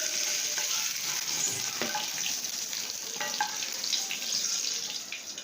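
Eggs frying in soybean oil, a loud, dense and steady crackling sizzle filling the whole stretch with faint spoon or spatula clinks on top and tapering slightly at the end.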